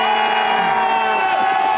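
A home crowd cheers at a Crankworx Les Gets pump track event, a dense, loud and sustained roar of whoops and shouts with no break.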